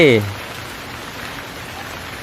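Steady rain patters on a surface, a soft continuous hiss after a brief tonal blip at the start.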